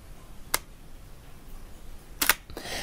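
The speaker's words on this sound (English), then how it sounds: "When you push the shutter down, it pauses, it closes the curtain, and then it doesn't open it again until you release." DSLR camera shutter in silent live view mode 2, shooting a single frame: a soft click, then a second muffled click nearly two seconds later as the release lets the curtain reopen, quiet and close with no talking.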